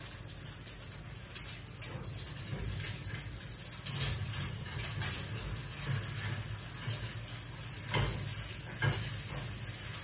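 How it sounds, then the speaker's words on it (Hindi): Egg frying in a pan for a homemade sandwich, a steady close sizzle with crackling bursts and a few louder spits running throughout. "अंडा फ्राई हो गया मेरे मुताबिक, सही है ये।"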